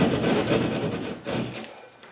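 A hand saw rasps back and forth through a drywall wall to cut an opening for an electrical box, with steady scraping strokes close by that ease off near the end.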